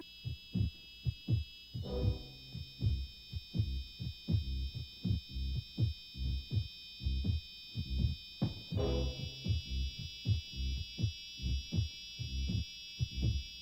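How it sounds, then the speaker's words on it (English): The pulsing heartbeat theme from the 1959 horror film The Tingler throbs as a steady, loud double-thump heartbeat under a sustained high electronic hum that shifts pitch partway through, with no voices. "it has this theme song that kicks in, and you hear a pulsing heartbeat"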